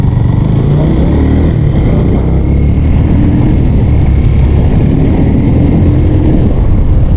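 A large big-bike motorcycle engine runs close by with a loud, steady, unbroken rumbling drone throughout, and no one speaks.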